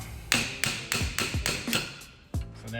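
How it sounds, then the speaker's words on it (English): A hammer strikes a metal part being driven over a bolt, about eight sharp ringing blows in a steady rhythm with a brief pause before the last, close and loud with no talk. "Then I'm gonna get the hammer and hit it in."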